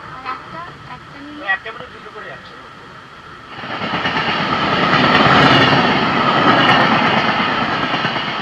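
The Padatik Express, a night train from Sealdah to New Jalpaiguri, runs on the rails. A faint rumble with brief clanks swells after a few seconds into a loud, continuous roar of wheels and carriages.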